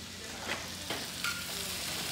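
Chili and onion sizzling in a pan while chicharrones a la mexicana are cooked, a steady close frying hiss with a few louder stirring bursts.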